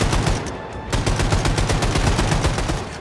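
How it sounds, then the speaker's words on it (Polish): Rapid automatic gunfire in the shooter Wolfenstein II: The New Colossus, with loud, continuous bursts of rattling shots and cracks that barely pause throughout. "strzelają do mnie z każdego możliwego, kurwa, kierunku"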